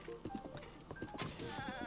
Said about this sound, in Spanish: una cabra.